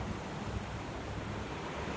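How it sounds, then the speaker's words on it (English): Ocean waves ebb and flow in a steady, dense wash of surf, loud and continuous with a windy, rushing texture and no voices. "hearing this water and its consistency as it ebbs and flows"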